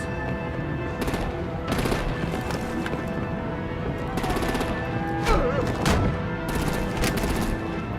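Video game gunfire aimed at vehicles in a Batman game rattles in repeated automatic bursts with sharp cracks, mixed with clattering action effects, a rising whine and heavy impact noises.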